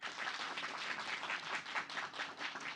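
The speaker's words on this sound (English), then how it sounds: "Berikan tepuk tangan yang paling meriah." Audience applause at a campus event in Indonesia on water solutions for responsible mining, a steady, moderately distant wash of many hands clapping that runs evenly for a few seconds without voices.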